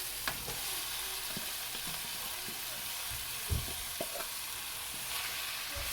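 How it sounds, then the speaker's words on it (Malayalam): Marinated chicken frying with sautéed tomatoes for chicken biryani, with a soft continuous sizzle, occasional spoon knocks and stirring scrapes, fairly faint, no voices. "നമുക്കിതിലേക്ക് നമ്മൾ മാരിനേറ്റ് ചെയ്ത് വെച്ചേക്കുന്ന ചിക്കൻ നമുക്ക് ആഡ് ചെയ്ത് കൊടുക്കാം"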